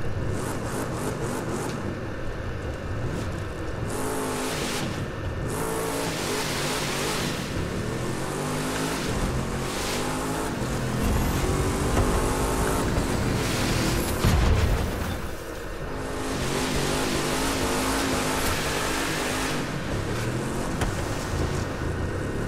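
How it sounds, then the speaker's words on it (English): A loud, continuous engine roar of a drag car in the video game The Crew 2, with repeated revving surges and rising pitch sweeps, like a powerful race car accelerating, sustained without a break. "I just want to see how good these drag cars are."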